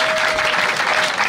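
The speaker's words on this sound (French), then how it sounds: "je voudrais qu'on applaudisse très très fort" Loud, dense applause fills a Paris jazz club as the audience welcomes the director at a showcase concert, continuous clapping throughout the short stretch.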